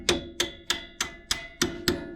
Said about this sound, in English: get that mallet, the hammer, and you're going to hit that bolt on the head of it